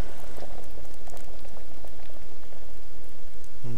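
An alchemy cauldron bubbling at a rolling boil in the video game Kingdom Come: Deliverance, a loud, dense, continuous seething of bubbles with crackling pops throughout and no voices.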